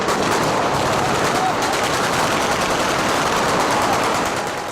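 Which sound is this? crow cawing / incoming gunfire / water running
incoming gunfire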